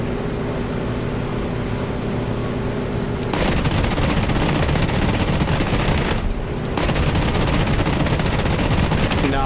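Cannon rounds firing in a flight game, a rapid loud stream of shots over a droning engine, starting abruptly, briefly pausing and then resuming.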